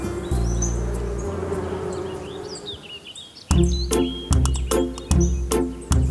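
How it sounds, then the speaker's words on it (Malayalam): Small cartoon insects buzz among flowers in an animated scene, a steady drone that gives way to repeated sharp buzzing bursts and chirps over a low musical hum. "ഒത്തിരി ചെറുപ്രാണികൾ അവിടെ വസിച്ചിരുന്നു"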